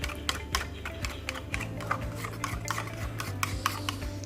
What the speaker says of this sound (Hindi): अंडे को हमने फेंट लिया और दूध भी इसके अंदर हम डालेंगे। इसको अच्छी तरह हम फेंट लेंगे।